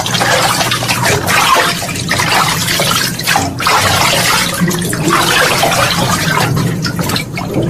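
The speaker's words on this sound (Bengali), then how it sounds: "নিচে টিউবওয়েল থেকে পাম্প করে এখানে ধারা স্নানের ব্যবস্থা" In a Bengali horror audio story, bath water pumped up from a tubewell pours and splashes continuously as a shower runs, a steady full rush of falling water heard close throughout.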